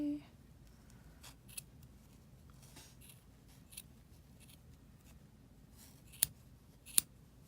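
Scissors snip through yarn loops while trimming a handmade pom pom, a few short sharp cuts spaced apart, the clearest two near the end, faint and close in an otherwise quiet room.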